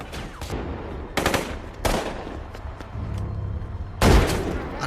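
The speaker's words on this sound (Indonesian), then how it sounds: "Alejandro terlihat berhasil menembak Diaz" Gunfire from the cartel thriller film Sicario sounds as several sharp, loud shots and short bursts at irregular intervals, ending with a heavier blast over a tense background.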